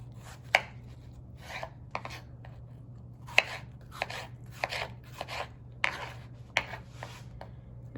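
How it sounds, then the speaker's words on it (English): A knife slices vegetables into strips for gazpacho on a cutting board, producing a dozen or so crisp, irregular chops close by over a low steady background hum. "You're gonna cut horizontally. And then cut into strips."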